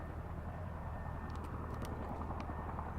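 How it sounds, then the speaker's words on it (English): A helicopter in the Farming Simulator 19 video game flies overhead during mountain logging, heard as a steady, loud engine rumble and rotor drone that persists throughout without any talk. "It sounds like a helicopter."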